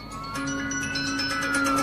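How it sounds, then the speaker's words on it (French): Police car sirens wail steadily with sustained tones and rising pitch sweeps, heard from inside a vehicle over road rumble, loud and continuous throughout. "il y a plein de voitures de police avec les sirènes allumées"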